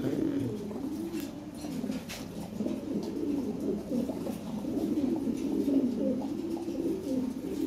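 Lahore Siraji fancy pigeons coo in a loft, a steady overlapping stream of low rolling calls, close and clear, that continues throughout without pause.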